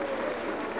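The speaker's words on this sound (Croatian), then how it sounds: "Ajmo jedan aplauz malo, ajmo navijat" Audience applause fills a folk song festival hall in Zagreb, a brief dense burst of steady clapping from the crowd under a host's voice.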